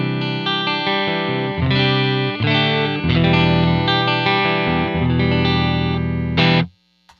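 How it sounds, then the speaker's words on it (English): Electric guitar played through a single Quad Cortex amp and cab model, a thick, distorted chord riff that is loud and sustained, then stops abruptly near the end with no speech. "all we have there right now is an amp and cab"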